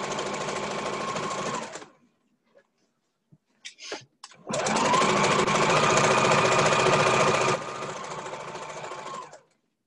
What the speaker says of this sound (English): So we're gonna go ahead and use a straight stitch and we're gonna sew up our side seams.